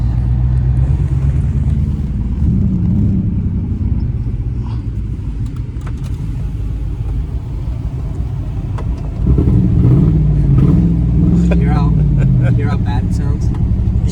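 An old, long-idle Mercury car drives along with a low, steady engine rumble and a loose rattling exhaust, loud and close throughout, rising in pitch around the middle as it pulls harder, with voices talking over it.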